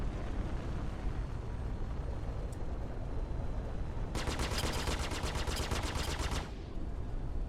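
Starship guns firing at an enemy ship in Star Citizen: a fast, even burst of rapid-fire shots lasting about two seconds, layered over a constant engine drone that continues before and after.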